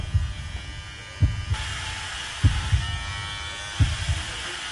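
Electric hair clippers buzz in short repeated bursts, switching on and off roughly every second with a steady motor whine underneath, close by.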